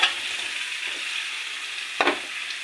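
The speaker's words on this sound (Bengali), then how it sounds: "এবার আমি এতে আলুগুলোকে দিয়ে দিচ্ছি" Potatoes fry in a hot pan with a steady, bright sizzle and light stirring, plus a brief clatter near the end.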